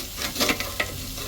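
A marinated T-bone steak sizzles and is tossed around on a barbecue, a short, close crackling hiss with a few sharp scraping ticks.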